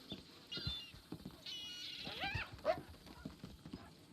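A dog in the Western role-play game RedM gives a run of high whimpers and yips, with a couple of short bark-like bursts in the middle, fairly close and moderately loud with no talk over it.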